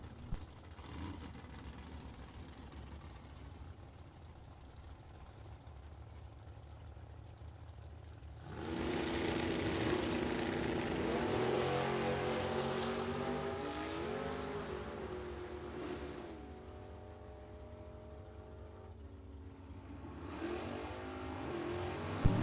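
A Chevrolet Camaro launches at a drag strip, its engine roaring up suddenly after a quiet idle and holding a loud, rising revving tone for several seconds before fading into the distance.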